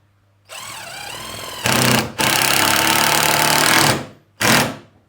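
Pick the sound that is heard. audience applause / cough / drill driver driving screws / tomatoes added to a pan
drill driver driving screws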